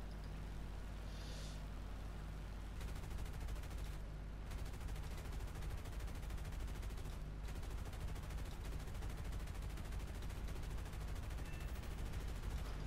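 Machine guns of an F4F-3 Wildcat fighter plane firing in a video game, a dense continuous rattle of gunfire over steady engine drone, with brief pauses between long bursts, no talk.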